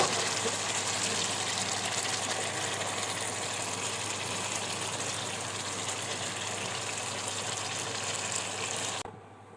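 Water gushes steadily into a cooking pot of beef curry, a continuous loud pouring rush that stops abruptly near the end.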